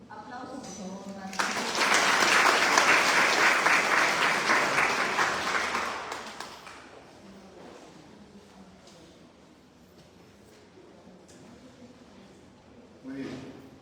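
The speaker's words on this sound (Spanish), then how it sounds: "Aplausos, por favor" An audience claps at a university book fair event, a loud burst of applause lasting several seconds that fades into room ambience with faint voices and stray noises.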